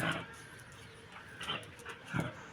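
A pet dog whines and whimpers in short high nasal cries, a few brief rising squeals spread over a couple of seconds, close but fairly quiet, with no talking.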